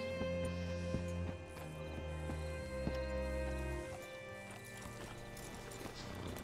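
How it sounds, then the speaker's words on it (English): Rhythmic clip-clop of horse hooves over a steady musical drone in Red Dead Redemption 2, with a horse whinnying partway through; close and clear, no talking. "Hitch your horse up here."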